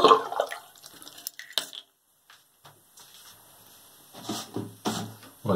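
Water draining from a clogged sink after the plug is pulled, heard as slow gurgles, drips and ticking trickles in short bursts separated by near-silent gaps, close and moderately loud.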